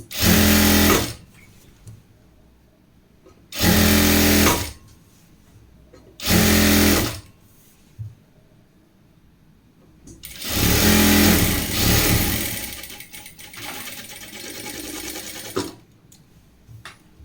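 A sewing machine stitching the folded hem of a fabric midi dress, running in several loud close bursts of steady whirring separated by pauses, the last run longer and gradually easing off.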